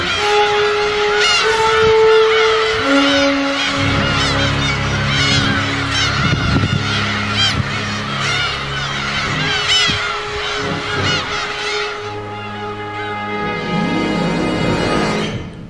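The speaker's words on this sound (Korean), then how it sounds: "멸종 위기에 처해 있다는 매와 괭이 갈매기들 간의 쫓고 쫓기는 추격전" Black-tailed gulls call in repeated harsh, honking cries while a falcon chases them near their nests on Gyeokryeolbiyeoldo island in Korea's West Sea; the calls are loud and close, overlapping in busy bursts.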